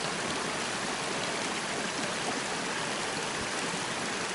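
A forest stream flows near a spring along a hillside path, producing a continuous, even rushing and bubbling of water close by, with no voices.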